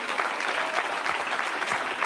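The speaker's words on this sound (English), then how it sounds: "black folks are clapping in the audience" An audience claps steadily, a dense and even burst of applause heard at a moderate distance with no voices over it.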